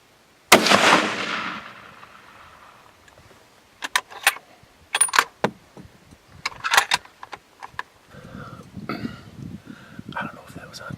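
During a night hog hunt in South Texas, a single loud, sharp gunshot cracks nearby. It is followed by scattered clicks and rustles, and later by low talking.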